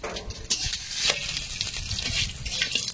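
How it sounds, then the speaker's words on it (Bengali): Panch phoron spices crackle and sizzle in hot oil in a wok, with a steady close frying hiss broken by small pops and a few stirring clinks. "তেল দিয়ে এর মধ্যে একটু পাঁচফোড়ন"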